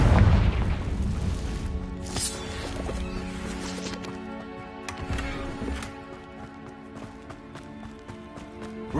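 In Hogwarts Legacy, the Confringo fire spell detonates with a heavy boom at the start, followed by a rumbling decay and scattered clattering game effects and footsteps.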